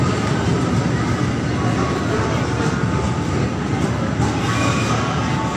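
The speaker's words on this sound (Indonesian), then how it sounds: "Ini kereta yang baru tiba." A newly arrived KRL commuter train, recently shipped from Japan, rumbles steadily at a Jakarta station, its broad continuous roar holding loud and near throughout with no clear talk over it.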